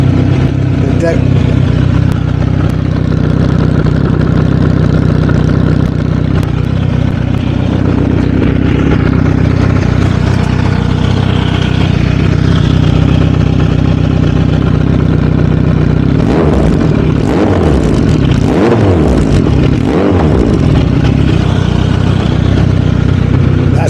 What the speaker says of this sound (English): this is the sound of the new exhaust